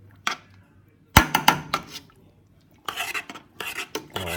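A spoon scrapes and clanks around a pot of homemade chili with cayenne pepper in short, irregular bursts of metallic stirring, close and fairly quiet, with pauses between strokes.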